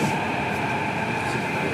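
Train running at Woodlands North MRT station on Singapore's Thomson East Coast Line, a steady loud rolling hum with whining tonal motor drone and rail rumble throughout.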